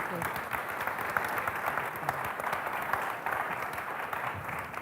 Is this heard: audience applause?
yes